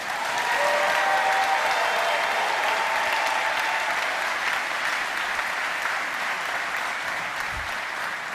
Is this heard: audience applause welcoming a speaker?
yes